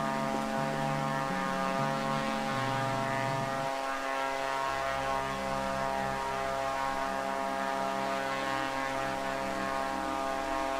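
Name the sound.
light aircraft coming in, heard in real life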